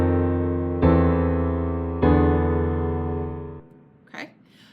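Two sustained piano-like chords, a 5/8/6/4 sonority resolving to 7/5/3, each struck cleanly and left to ring and fade, followed by a brief quiet vocal sound at the end.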